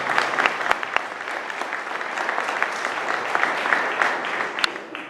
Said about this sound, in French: cela mérite un franc applaudissement